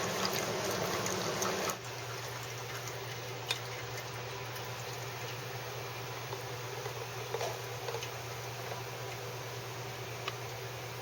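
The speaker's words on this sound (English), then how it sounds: "Once again, I'm going to add my milk." Milk pours for a latte at a Bezzera Strega lever espresso machine: a steady, close liquid hiss runs throughout over a low machine hum that deepens after the first couple of seconds.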